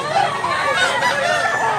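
Fighting roosters at a cockfighting market in Mantalungon, Cebu cluck and crow in a steady noisy jumble of fowl calls, close and continuous.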